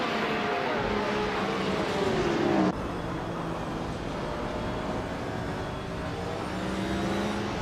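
Race cars in a racing video game roar steadily side by side, a loud continuous engine drone with shifting pitch and an abrupt change in tone partway through.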